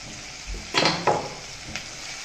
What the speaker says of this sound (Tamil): இது நல்லா வதங்கிடுது